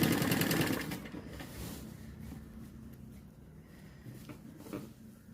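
A sewing machine runs a loud burst of fast stitching as a sleeve is joined to a garment shoulder, then drops to a quieter hum and faint handling.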